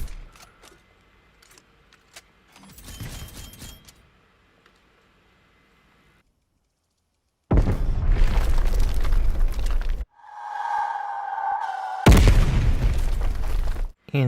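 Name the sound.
gunshot in the video game Black Ops Cold War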